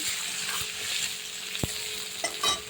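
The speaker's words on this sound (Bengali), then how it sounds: "এটাকে নেড়ে চেড়ে" A fried egg and potatoes are stirred in a hot pan with cumin and bay leaf, with a steady oily sizzle, soft spatula scrapes and a sharp clink near the middle.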